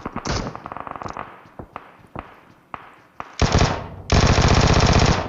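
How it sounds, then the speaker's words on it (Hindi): Gunfire in the video game PUBG Mobile: a burst of rapid shots, then scattered single cracks, then two long, loud automatic bursts that are close and sharp. "उस तरफ जो है बहुत ज़्यादा फायरिंग हो रही थी"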